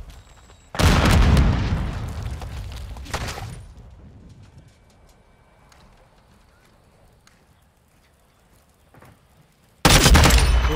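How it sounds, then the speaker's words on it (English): Semtex grenade exploding in a hardcore first-person shooter on the Santa Sena map, a loud close blast followed by a long fading rumble and debris tail, then a second sharp burst at the end. "Semtex out!"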